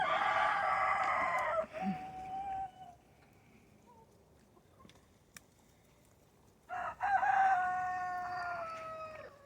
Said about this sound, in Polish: Kury jednak trochę wypuściliśmy, niech sobie podziobią,